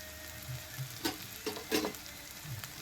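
Tomatoes and spices fry in a pan for fish curry, a close steady sizzle punctuated by a few scraping stirs of a spoon, with no talking.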